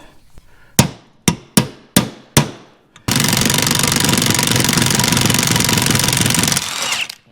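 Five sharp, loud hammer taps land about half a second apart on a stuck brass nut, followed by a sustained, harsh mechanical roar lasting several seconds before it cuts off.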